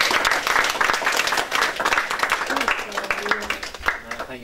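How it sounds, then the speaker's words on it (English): Audience applause closing a horror-themed convention panel, a dense and loud burst of many hands clapping that fades slightly toward the end, with some voices mixed in. "We give a big round of applause to our audience here."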